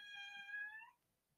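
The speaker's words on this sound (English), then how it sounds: "And that's my cat." A house cat gives one clear, drawn-out meow at close range, a bright tonal cry lasting nearly a second before fading into a quiet room.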